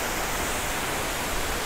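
The Ninai waterfall in Shoolpaneshwar Wildlife Sanctuary gives a steady, loud, broadband rush that fills the whole moment with no voices.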